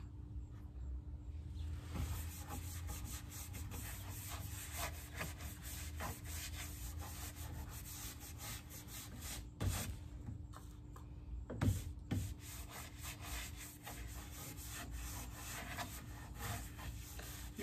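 Painted wooden furniture being distressed by hand, rubbed back through the paint in a soft, steady scrubbing and rasping, close but quiet, with a few sharper knocks and scrapes along the way and no voices.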